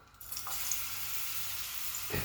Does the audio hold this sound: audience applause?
no